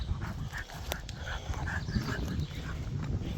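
A dog whimpers and pants in short, restless bursts over steady outdoor background noise, fairly close and moderately loud.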